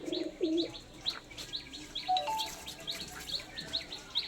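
Nearby pigeons of a prized Naptha breed coo softly, with low murmuring coos and repeated sharp chirps in an irregular rhythm over a quiet background.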